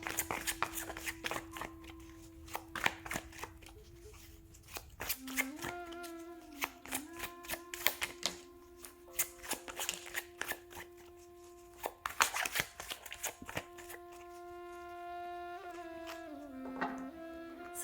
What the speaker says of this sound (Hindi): सबसे पहले हम आपकी कार्ड शफल करते हैं